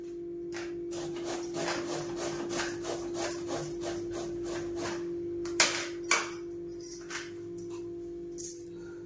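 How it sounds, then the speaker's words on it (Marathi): Pumpkin is grated by hand in a home kitchen, making a soft, repeated rasping scrape in quick strokes over a steady hum, with a few sharper knocks partway through. "हे सगळं भोपळा ना मला किसून घ्यायचं आहे आणि सगळे किसून घेते"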